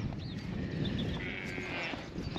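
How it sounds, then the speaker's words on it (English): Sheep bleat on a farm in spring, with a faint drawn-out bleat over steady outdoor background noise and rustling. "Just checking the sheep, we haven't done that today yet."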